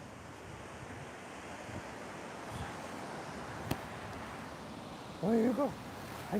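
Ocean waves wash onto an oceanfront shore in a steady surf roar mixed with wind buffeting the microphone, with a person's voice briefly heard near the end.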